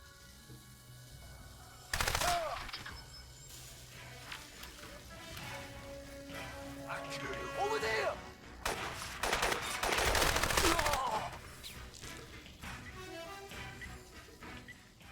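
Bursts of automatic gunfire and explosions from a first-person military shooter game set around a KPA checkpoint, loud rattling volleys and crashing blasts mixed with game effects and occasional voices.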